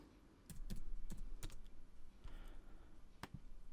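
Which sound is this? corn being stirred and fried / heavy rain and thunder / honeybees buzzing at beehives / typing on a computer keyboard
typing on a computer keyboard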